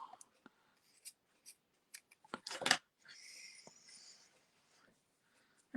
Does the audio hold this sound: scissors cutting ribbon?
yes